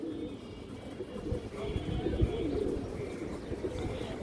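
Old-breed loft pigeons coo in a low, continuous murmur throughout, several birds overlapping at moderate volume with small scattered chirps and no talking.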